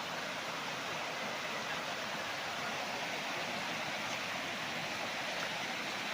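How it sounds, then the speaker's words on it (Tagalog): River water flows steadily past a farm lot in Majayjay, Laguna, a continuous broadband rush, moderately quiet and unbroken, with no voices. "Ang sarap pakinggan ng agos ng tubig."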